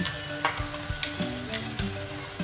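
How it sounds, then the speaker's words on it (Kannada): Onion and tomato sauté in oil for a horse gram palya, making a steady close sizzle with a few scraping stirs of a spoon in the pan. "ಈರುಳ್ಳಿ ಟೊಮೆಟೊ ಚೆನ್ನಾಗಿ ಎಣ್ಣೆಯಲ್ಲಿ ಬಾಡಿಸ್ಕೊಳ್ಬೇಕು"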